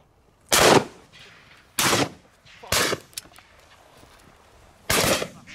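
Shotgun blasts at a duck hunt with clients, four loud, sharp, close reports spaced about a second apart, each with a brief outdoor tail and no talking between them.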